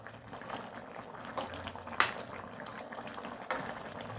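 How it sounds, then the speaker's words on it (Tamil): Chicken curry made with coconut milk boiling in a pot on a high flame: steady soft bubbling with a few sharper pops, close by and fairly quiet, with no talk. "எப்படி கொதிக்குது"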